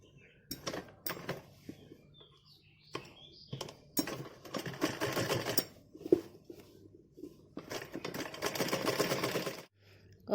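Sewing machine stitching the edge of a folded strip on a baby's kurta, heard in a few short clattering runs and then a longer, steadier burst near the end, close up, with some handling noise between runs.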